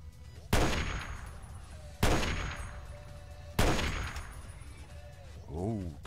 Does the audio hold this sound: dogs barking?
no